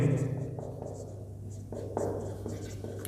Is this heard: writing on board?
yes